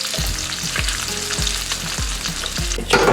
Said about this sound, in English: now we're going to cook up the bacon